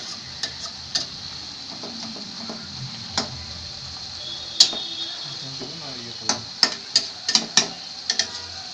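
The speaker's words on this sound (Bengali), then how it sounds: "পানিটা একটু টেনে গেলে আমরা এটাকে নাড়াচাড়া করে একটু ভাজা ভাজা করব" Mustard greens fry in a pan with a soft continuous sizzle, while a spatula stirs and scrapes, producing irregular sharp metallic clinks that cluster toward the end, up close.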